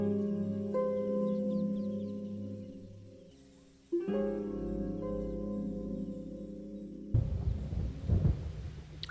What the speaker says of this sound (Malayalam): മഴ വന്നിച്ച്.